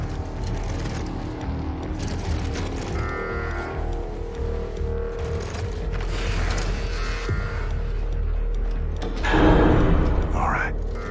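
In Wolfenstein II, a conveyor belt mechanism reverses with creaking, grinding gears and rattling machinery that swells toward the end, while a voice talks over it.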